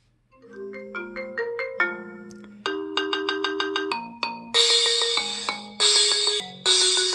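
A phone ringtone for an incoming call plays alone, a bright melodic sequence of repeated electronic tones that builds in phrases and grows louder and fuller toward the end.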